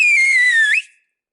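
A single sharp Silbo Herreño whistle from El Hierro calls a son's name, a loud sustained tone sliding gently down then flicking up before cutting off abruptly.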